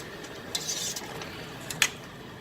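A spoon scrapes and clinks against a pot of spiced meat sauce for spaghetti, soft scraping strokes with a couple of sharper metallic taps, faint and close with no talking.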